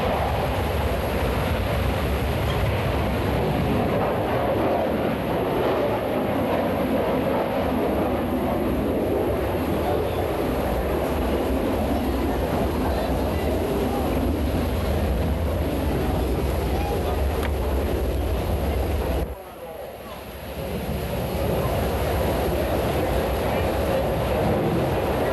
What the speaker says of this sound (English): To the right, Blue Angel number 5 is rolling. He will accelerate to 170 miles per hour